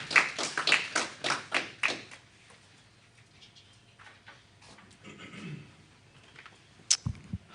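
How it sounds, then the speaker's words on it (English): Audience at an investment programme launch claps: a burst of sharp, close claps that thins out within two seconds, followed by quiet room noise and a few soft thumps. "Can we give her a round of applause?"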